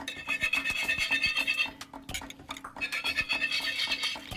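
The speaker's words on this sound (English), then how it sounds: "once your sauce is thick and syrupy, simply whisk in butter" A whisk working butter into a thick, syrupy sauce, giving a close, rhythmic scraping and rubbing with quick repeated strokes and a brief pause midway, without any voices.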